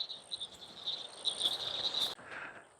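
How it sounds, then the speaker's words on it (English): Chorus of frogs or insects calling steadily from a lakeside at a picnic area, a continuous high trilling that stays fairly faint and constant in the background with no talk over it. "You can listen to the frogs in the background."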